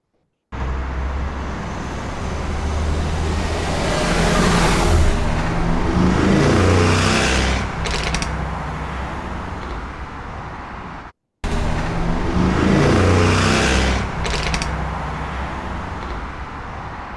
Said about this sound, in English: it's just a car, sort of a performance car and a truck competing with each other